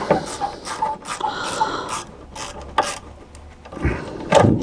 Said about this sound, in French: je finis de retirer ma petite vis de bride là derrière